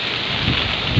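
Steady heavy rain hisses close by, with gusty wind rumbling underneath in a brief continuous burst.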